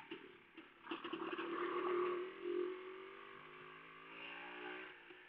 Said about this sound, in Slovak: Čo som hovoril o tom motore, tak počujete, že je to skôr nízkovotáčková záležitosť.